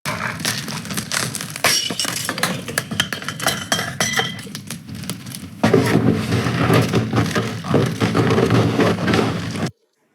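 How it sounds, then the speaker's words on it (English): AI-generated ambience of glass clinking layered over crackling fire: bright scattered clinks and taps recur over a continuous crackle, growing fuller and louder partway through before cutting off abruptly. "You can clearly hear the fire crackling the whole time, while the glass clinks and distant laughter are layered exactly where you specified"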